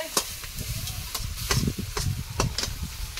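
A spatula stirs and scrapes food in a frying pan, a steady run of close, quick strokes over a low sizzle.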